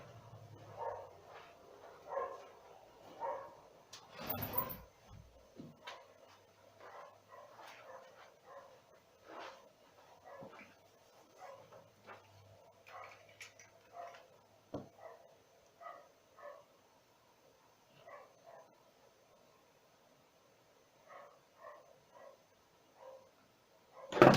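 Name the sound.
dog barking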